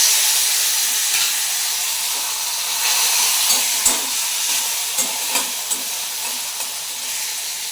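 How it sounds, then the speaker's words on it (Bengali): Tomato, green chili, cumin, bay leaf and dried red chili frying in hot oil for a vegetarian potato curry, giving a steady close sizzle and hiss with a few soft stirring knocks and pops. "শুকনো লঙ্কা দিলাম ফোড়নে, জিরে দিলাম, তেজপাতা, টমেটো আর কাঁচা লঙ্কাটা"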